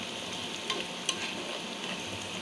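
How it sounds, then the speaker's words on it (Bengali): Onion and garlic frying in hot oil in a pan before lotka dried fish goes in, a steady close sizzle with a couple of sharp stirring clicks. "ভালো করে ভেজে নিচ্ছি তেলে একটু লাল লাল হলে তারপর শুটকিটাও ভাজবো"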